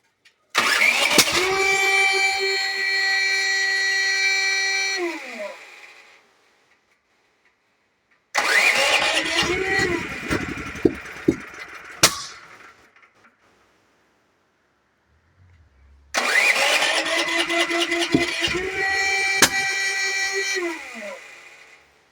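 A Duromax 13000 dual fuel generator with a starting problem is started in propane mode three times. Each time the engine catches loudly, runs a few seconds, then dies away into silence.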